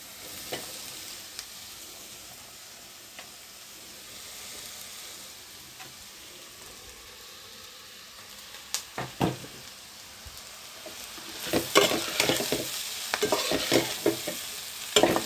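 Chopped moong dal dosa pieces are stirred in a hot pan, a low sizzle under occasional spoon scrapes that grow louder and busier toward the end.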